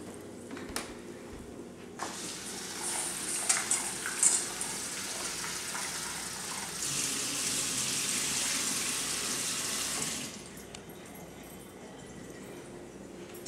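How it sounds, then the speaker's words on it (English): Rice is washed by hand in a pot of water in a home kitchen while making peas pulav, with sloshing and swishing that builds into a louder continuous gush of water midway, then eases off. "Now we have to wash the rice."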